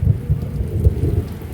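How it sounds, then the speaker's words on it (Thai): Steady rain falls with a low rumble of thunder underneath, continuous and fairly loud, with no voices. "ฝนตกพี่น้องเอ้ยเนาะตกซ้ำนี่ก็"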